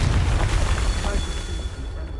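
A Confringo fire-blast spell in the video game Hogwarts Legacy: a deep, rumbling explosive burst with a broad roar that slowly fades over a couple of seconds.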